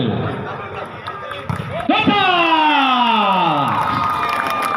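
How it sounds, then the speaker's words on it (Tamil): Spectators at a college basketball match between Customs and D.G. Vaishnav College cheer as a crowd. A busy murmur swells into a loud, sustained collective shout whose pitch sweeps down, holding strong to the end. "கரகோஷம் எழுப்புங்கள்."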